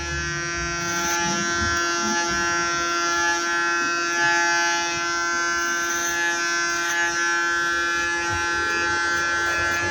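An electric hair clipper with a 6mm attachment cutting hair during a short haircut, giving a continuous close, loud buzzing hum with a steady motor whine and slight shifts as it moves through the hair, with no talking.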